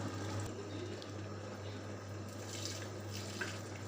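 Steady water poured into a wet grinder for idli batter splashes continuously at moderate level, a constant wash of liquid with a low hum beneath and no voices.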